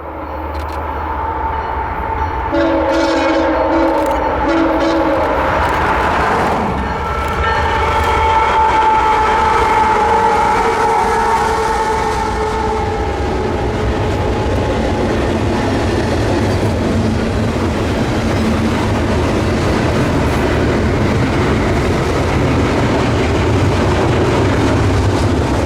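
A CPKC intermodal freight train rolls past with container cars, a loud steady rumble and rattle of wagons close by, with horn-like tones early on and no talk.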